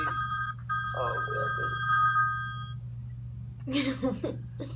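A telephone rings indoors with repeated electronic trilling bursts and a steady low hum beneath, followed by a brief clattering sound near the end.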